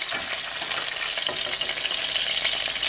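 Pieces of chicken fry in oil for arroz con pollo, a loud, dense, continuous crackling sizzle that holds steady throughout, with no talk.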